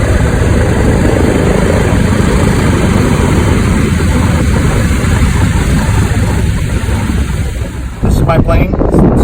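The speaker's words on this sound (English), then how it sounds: "My plane, Cessna 182." A Cessna 182's engine runs at a loud, steady roar mixed with heavy wind noise before cutting off sharply near the end, with a voice talking over it.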